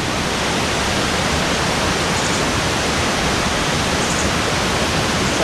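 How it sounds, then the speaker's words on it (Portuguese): Waterfall carved into rock, a steady, dense roar of falling water filling the scene continuously and loudly, with no voices. "Cachoeira muito linda, esculpida na pedra."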